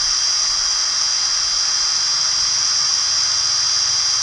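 A drill bores through the bottom of a stainless steel bucket with a constant, piercing high whine that runs unbroken and loud for the whole span, with no talk over it.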